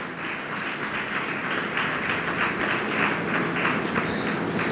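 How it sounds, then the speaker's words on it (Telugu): A congregation clapping in praise of God during a church prayer message, sustained dense applause at an even, moderate loudness from start to finish. "ఒకసారి చప్పట్లు కొట్టి దేవుని స్తుతిద్దాం."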